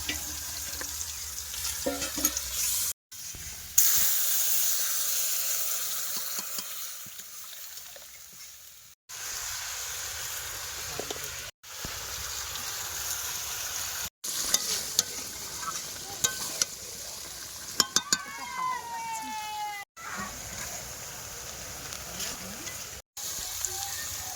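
Meat cooking on a clay stove, stirred with scraping strokes over a continuous sizzle and crackle, nearby, across several cut segments with brief pauses between them.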